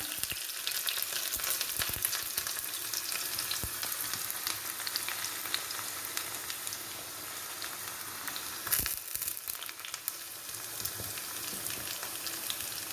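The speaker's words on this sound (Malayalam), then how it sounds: "കടുക് പൊട്ടി ഇനി നമുക്ക് ഉള്ളി ചേർത്ത് കൊടുക്കാം." Onions sizzle in hot oil with popped mustard seeds, a constant bright crackle and occasional sharper pops, close up and unbroken, with no voices.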